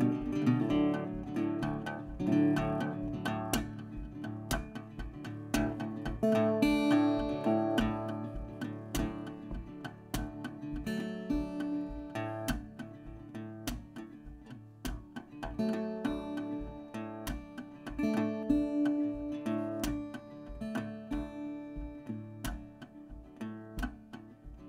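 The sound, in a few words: guitar imitating a train rumbling in and its bell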